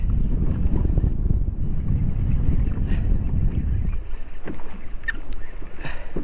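Strong wind on a boat while fishing buffets the microphone in low, rumbling gusts, easing after a few seconds, with faint water and creaking sounds beneath.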